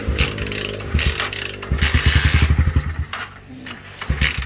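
A three-wheeled passenger vehicle's small engine cranks, catches and chugs in a rapid, uneven putter close by, then idles more roughly and sputters.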